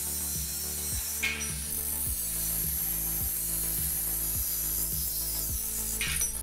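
A 4.5 inch angle grinder with a cutoff wheel cuts through a steel receiver tube at a welding table, producing a loud continuous grinding whine with a steady, repeating rhythmic pulse throughout.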